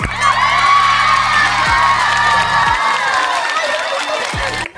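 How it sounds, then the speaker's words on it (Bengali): A crowd cheers and whoops for the winner of a game, with children's shouts mixed in, a loud, sustained burst close by that fades out after about four seconds. "সবাই হাততালি দাও"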